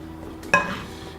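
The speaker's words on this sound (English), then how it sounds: "Keep stirring those grits." Grits being stirred in a pot while cooking a quick breakfast: one brief, close scrape of the spoon against the pot, with faint kitchen background around it.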